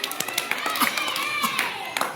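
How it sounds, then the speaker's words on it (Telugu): Children in a classroom clap in a quick burst of light, scattered claps, fairly faint and slightly distant, with a teacher's voice and kids' chatter mixed in. "క్లాప్స్ కొట్టండి ఒకసారి అందరు"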